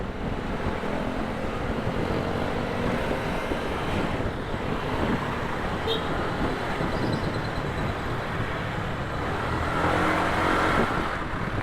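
Continuous road traffic of cars and motorcycles rushes and drones around a rider on a Honda Click scooter in Batangas. The noise stays steady and dense throughout, with no speech.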